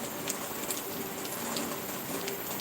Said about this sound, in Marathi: आमच्याकडे आहे पाऊस खूप